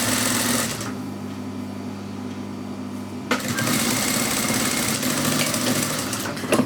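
A sewing machine runs steadily as it stitches layered fabric for a dress bodice, giving a loud, continuous mechanical whir with a brief pause and change in pitch partway through.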